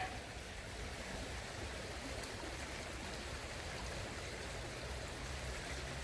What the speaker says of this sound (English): I'll just sit here and listen to this part of the creek all day.